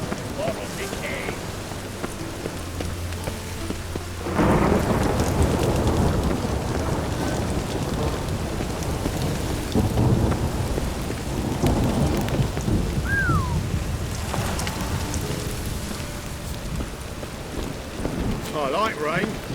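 Rainfall and rolling thunder in the video game Witcher 3, a low rumble opening into steady heavy rain that persists loudly throughout, with thunder swelling and fading over it.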